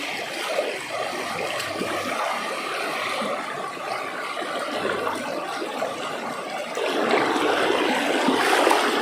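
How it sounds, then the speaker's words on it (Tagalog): A strong river current rushes steadily past, a loud, continuous broadband roar and splash of fast-flowing water that swells slightly toward the end. "Ito, pinakamalakas na agos"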